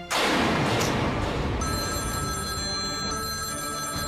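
A telephone rings indoors in a home scene from a TV drama, a continuous bright electronic ring sounding clearly and alone throughout with no talk.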